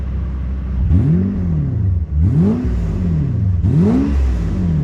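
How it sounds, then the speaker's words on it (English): A fully warmed-up 2000 Mercedes-Benz SL600 engine revs three times in quick succession, each blip climbing sharply and then dropping back to idle, loud and close. "I'm gonna get a little bit of revs."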